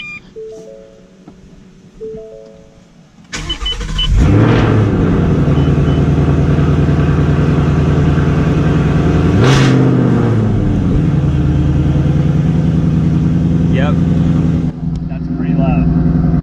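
A 2018 Ford Mustang engine cold-starts in a garage: after a few beeps, the starter catches and the engine bursts into a loud, steady high idle with a brief blip, then settles; a voice is heard at the start.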